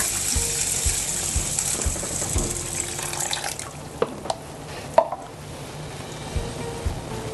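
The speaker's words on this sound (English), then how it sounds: "Let me pour it in a container, and then we soak it with water for an hour." Water runs and splashes into a container of lentils for several seconds, with a few clinks and knocks of handling near the end.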